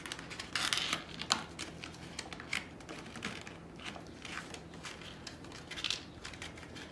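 Paper being folded and creased by hand, producing soft, quiet crinkles and scattered sharp rustling crackles with pauses in between, no voices.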